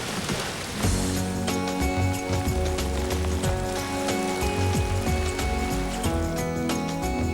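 Steady, dense rain pours down over a continuous hiss, heavy and unbroken, with layered tones running beneath it throughout.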